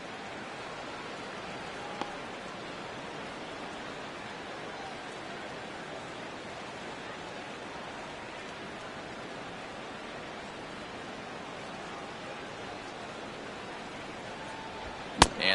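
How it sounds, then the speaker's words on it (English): Heavy rain pours steadily over a baseball stadium during a Brewers at Red Sox game, a dense even hiss lasting throughout with a couple of brief sharp pops, one near the end. "this rain is definitely complicating matters out there. It's really coming down over the past 5 minutes or so"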